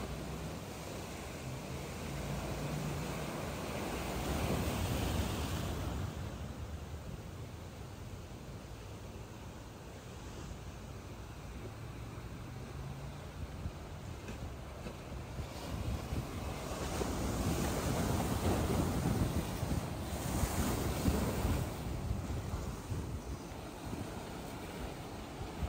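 High-tide surf pounds Boa Viagem beach in Recife, a steady roar of breaking waves and wash mixed with gusty wind buffeting the microphone, swelling louder in surges toward the end.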